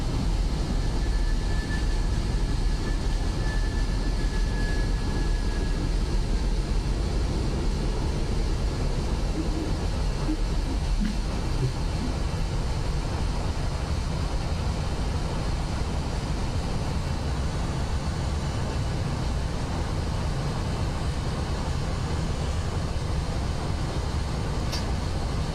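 A LanPeru A320 in a flight simulator roars through its takeoff and climb, a loud, steady broadband engine rumble with a brief whine, continuing throughout without voices.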